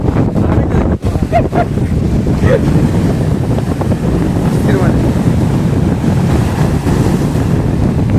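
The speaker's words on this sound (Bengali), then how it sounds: "জলের স্রোতটা অনেকটা বেড়েছে কিন্তু আগের থেকে, দেখতেই পাচ্ছ" Strong sea waves surge and wash over a rocky, stone-lined seashore on a rainy day, a loud continuous rushing roar with wind buffeting the microphone throughout.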